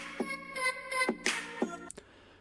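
A short excerpt of a song, sampled and set in time, plays with punchy percussive hits and bright synth tones in a bouncy pop rhythm before stopping abruptly.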